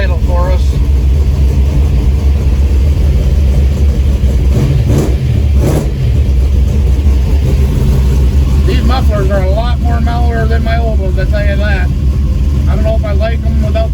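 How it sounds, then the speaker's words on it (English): A 1971 El Camino SS engine, fitted with separate individual exhaust pipes, idles steadily with a deep low rumble while warming up, and a voice talks over it partway through. "Bring the idle up a little bit and let it warm up"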